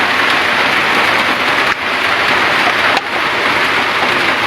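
Heavy rain pours in a steady, dense hiss, close and loud throughout, with a couple of brief dips in intensity and no voices, falling near a charcoal-making site.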